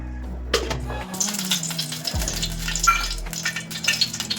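Oil poured into a pan to cook prawn chutney, with a few metallic clinks at the start, then a crackling sizzle and scraping that keep going close by.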